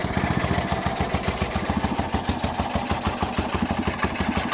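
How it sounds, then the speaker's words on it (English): A 30-year-old abandoned motorcycle engine idles close by, its steady rapid pulsing chug running without pause for the full length, loud and alone with no talk. "Cannot believe she's idling."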